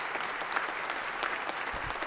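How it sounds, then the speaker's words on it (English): Brief, fairly soft applause fills a hall at a Founders Day convocation as the audience claps for the organisers, a continuous patter of many hands lasting about two seconds. "So can we please give them a round of applause?"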